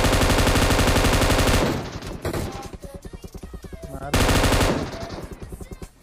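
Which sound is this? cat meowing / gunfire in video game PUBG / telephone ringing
gunfire in video game PUBG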